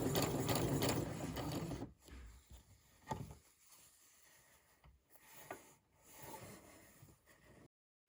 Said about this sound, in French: J'utilise le pied à ourlet étroit.